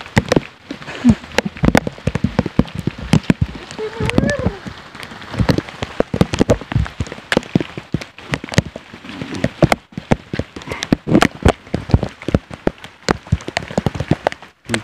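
Heavy rain pelts a mountain trail on Mount Sumbing with dense, irregular sharp drops and splatters striking close by, and a voice faintly speaks at moments beneath the downpour.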